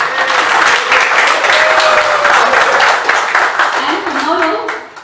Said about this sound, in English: We can give him a better round of applause.